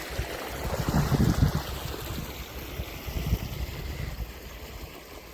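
Irrigation water flows along channels into a maize field on a farm, a continuous rushing wash with gusty rumbles, some of it wind buffeting the microphone, and no voices.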